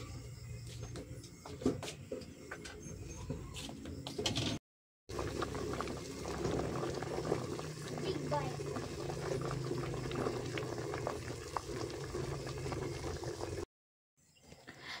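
Vegetable soup with cabbage and chayote bubbles steadily in a covered pot, a continuous close simmering hiss and rumble that runs throughout, briefly cut by two short gaps of silence.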